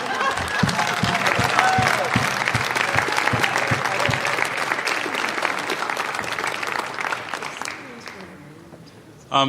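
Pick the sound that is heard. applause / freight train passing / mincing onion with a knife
applause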